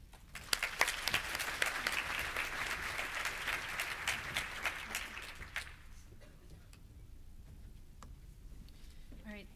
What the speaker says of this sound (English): please give them a huge round of applause for the huge work they've done